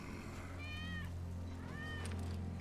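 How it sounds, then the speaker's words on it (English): A cat in the Final Fantasy VII Remake video game gives two clear meows about a second apart, close and distinct over a steady low game hum. "That's Wedge's cat."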